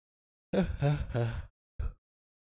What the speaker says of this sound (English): Sorry, guys. I keep yawning.